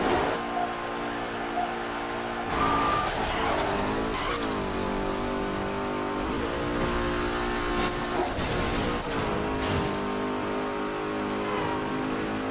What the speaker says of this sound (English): that second burst of nitrous I released, that was totally an accident